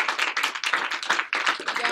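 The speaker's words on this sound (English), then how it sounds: "Can we get Courtney a round of applause?" A room of people gives Courtney a round of applause at an academy talk, with brisk, dense clapping close by that dips briefly and then continues.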